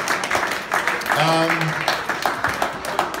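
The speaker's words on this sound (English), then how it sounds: "give yourselves another round of applause" A crowd claps steadily throughout, with a brief whistle or cheer rising above the applause partway through.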